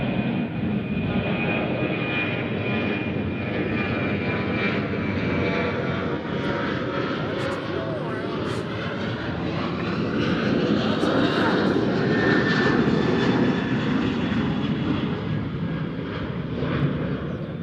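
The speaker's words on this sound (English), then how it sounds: "We got go-around number 2, ladies and gentlemen." Aircraft engine roaring steadily and loudly throughout as a plane performs a go-around at Nashville International Airport, a broad sustained drone with slight rise and fall in pitch and no break.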